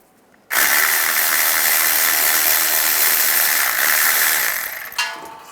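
A ratchet wrench loosens a front brake caliper bolt on a 2007-2017 Ford Expedition, giving a loud, close, continuous run of rapid clicking that lasts several seconds and then stops abruptly, with no talking.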